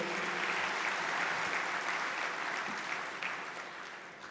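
Audience at an Ahmedabad chartered accountants' convocation gives sustained hall applause, steady and full at first, then slowly thinning and fading toward the end.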